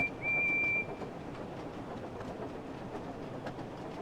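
A train rolls along in a train simulator game, a soft steady rumble and faint rail clatter with a brief high whistle-like tone near the start, fairly quiet and without talk.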